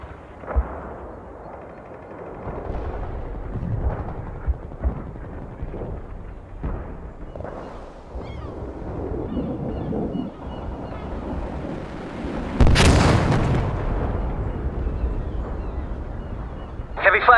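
Missile strikes and artillery fire in World in Conflict, a real-time strategy war game, rumble continuously with scattered distant booms and a loud, broad blast near the end, under radio-style game voices.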